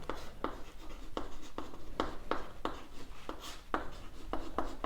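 Chalk or marker scratching across a board in a physics lecture on the Bohr atomic model, with a steady run of short strokes tapping and scraping at an even rhythm, close and clear, and no talking.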